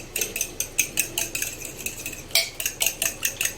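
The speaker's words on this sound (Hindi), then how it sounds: "बाउल में सबसे पहले अंडे डालने हैं 2। तो इनको अच्छे से मिक्स करना है" A spoon beats two eggs briskly in a bowl, making quick, rhythmic metallic clinks and taps against the sides, close and clear, with a brief pause midway before the beating resumes.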